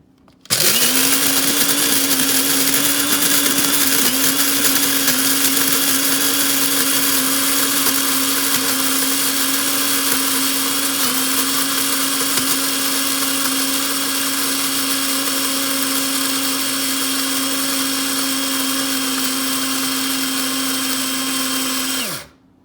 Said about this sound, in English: So we'll start grinding coarsely the cardamom powder, then the cardamom pods.